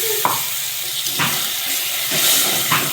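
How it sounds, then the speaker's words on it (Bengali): Water is splashed into a pan of frying spice paste while cooking chicken curry, a broad hiss and sizzle running through with a few brief pouring bursts, close and fairly loud, no talk. "মশলার বাটিটা ধুয়ে আমি একটু জল দিচ্ছি"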